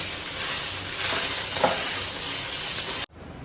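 Raw tamarind rice is tossed and stirred in a pan, giving a steady close scraping and sizzling texture with no talk, which cuts off abruptly near the end.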